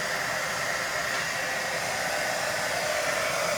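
A handheld hair dryer blows steadily to dry glue, a close, continuous whoosh that stays even from start to finish with no talking.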